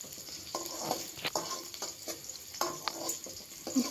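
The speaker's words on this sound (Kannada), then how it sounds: "ನೋಡಿ, ಫ್ರೈ ಆಗ್ತಾಯಿದೆ. ತುಂಬ ಡೀಪ್ ಫ್ರೈ ಮಾಡ್ಕೋಬೇಕು ಇದನ್ನು." Egg deep-frying in oil in a pan for egg chitranna rice, a steady close sizzle broken by repeated scraping strokes of a spatula stirring against the pan, with no talking.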